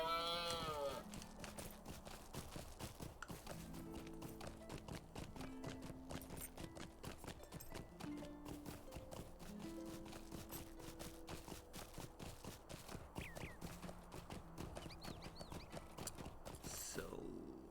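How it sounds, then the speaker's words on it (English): Horse hooves clip-clop steadily in a Lord of the Rings video game, a rapid, even rhythm of close, crisp hoofbeats with game music running underneath throughout. "I'm gonna take a horse."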